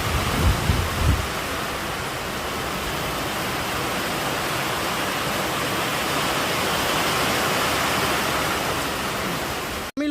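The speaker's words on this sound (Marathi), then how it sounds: "कारण पाऊस जोरात आला आहे, भयंकर जोरात पाऊस आहे बघा तुम्ही" Heavy monsoon rain pours at Karnala Fort as a loud, steady, close roar of dense falling water that continues for almost the whole stretch without a break.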